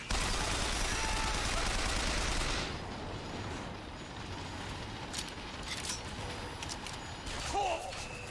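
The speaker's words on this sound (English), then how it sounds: "Who's shooting me?" Dense automatic gunfire from the Bioshock Infinite shooter fills the first few seconds, loud and continuous, then cuts to quieter game ambience with scattered faint shots and clicks.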